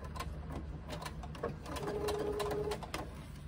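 A quiet sewing machine stitches a quarter-inch seam around the curved outer edges of a fabric piece, giving a soft, steady mechanical hum throughout with no voices.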